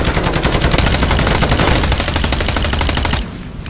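Automatic sentry gun in Call of Duty Modern Warfare 3 fires a loud, rapid, sustained burst of gunfire for about three seconds, then cuts off abruptly, leaving quieter game ambience.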